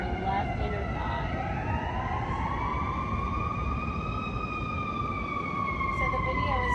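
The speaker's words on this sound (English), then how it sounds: "Lots of sirens all the time." Emergency vehicle sirens wail through Chicago city streets. Their long, rising and falling tones sound from a distance and hold steady over constant urban background noise.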